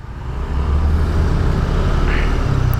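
A large lorry drives by close up, its deep engine rumble swelling and holding steady, loud and continuous.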